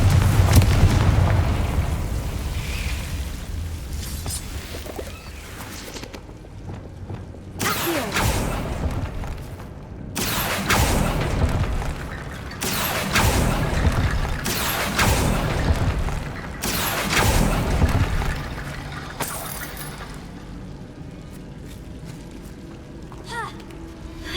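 Repeated fiery Confringo blast spells go off in Hogwarts Legacy, a series of booming bursts with rumbling tails spread across the stretch, some near and loud, others softer, with a voice calling out spell names between them.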